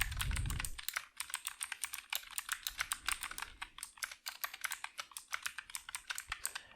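Computer keyboard clacking as HTML code is typed, a quick irregular run of crisp keystrokes close to the microphone, with one heavier thump at the start.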